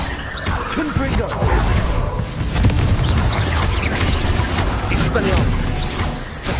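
A Confringo spell explodes in a Harry Potter video game, with booming blasts and crashing effects layered over a busy, continuous game soundscape, and a voice is heard throughout.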